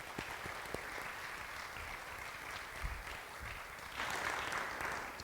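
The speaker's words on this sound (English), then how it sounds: "I stepped on your applause at the end." Faint applause from an audience after a speech at an indoor event, a soft, distant patter of clapping that swells slightly near the end.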